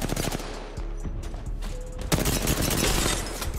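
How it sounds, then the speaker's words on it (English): Rapid automatic gunfire bursts in an Apex Legends ranked match, dense overlapping volleys with sharp reports continuing throughout, growing louder and more intense in the second half. "They're getting shot at."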